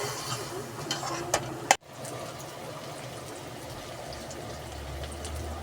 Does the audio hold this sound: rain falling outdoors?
no